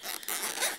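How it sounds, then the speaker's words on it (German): The zipper on the fabric carry bag of a Coil Master DIY Kit V2 is pulled open in one quick, close, raspy run lasting under a second, with no talk. "Mit Reißverschluss"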